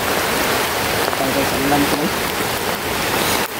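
Heavy rain pours down in a dense, loud, steady hiss close by, with faint voices murmuring underneath.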